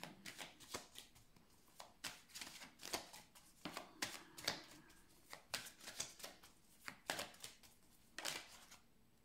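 An oracle card deck is cut and shuffled by hand, quiet close riffling bursts in a quick irregular rhythm, with no talking.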